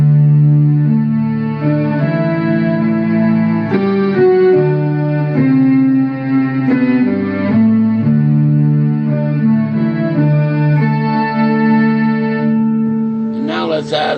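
Electric guitar played through an Electro-Harmonix Synth9 synth pedal, giving sustained, buzzy synthetic tones; several chord changes ring out loud and clear with no talking over them.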